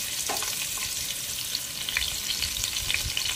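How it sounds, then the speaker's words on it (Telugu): Chopped onions fry in a pan for Bengali chicken bhuna, giving a dense, even sizzle close by. Occasional soft scrapes of stirring break through the hiss. "ఇప్పుడు ఈ ఉల్లిపాయలు మంచిగా దోరగా ఫ్రై అవ్వాలండి, గోల్డెన్ కలర్లో వచ్చేదాకా మనం ఫ్రై చేస్తున్నాం."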